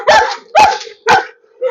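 A Cane Corso imported from Serbia gives three loud, close barks at an even pace, with short pauses between them and no talk.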